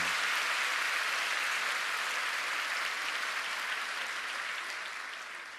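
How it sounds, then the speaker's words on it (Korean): Church congregation giving a round of applause at an evening prayer service, steady dense clapping that gradually tapers off near the end. "여러분 감사의 박수 한번 드리십시오"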